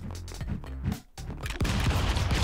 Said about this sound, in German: Oh Gott, das sind Schrotflinten.